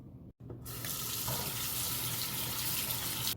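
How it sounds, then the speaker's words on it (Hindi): Tap water runs steadily into a metal strainer as carrots are rinsed at a kitchen sink for a biryani, a continuous close hiss after a brief pause at the start, with no talking. "छन्नी में डालकर धो लूँगी। और फिर गाजर को धोने के बाद पानी अच्छे से निकाल कर इसको फ्राई कर लेना है।"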